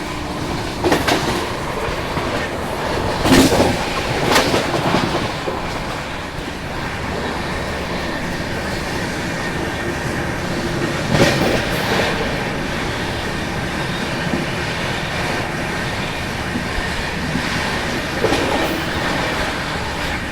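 A passenger train, the Uttar Sampark Kranti to Mata Vaishno Devi, rumbles along the rails from on board, a steady loud roll punctuated by periodic clickety-clack wheel beats over rail joints.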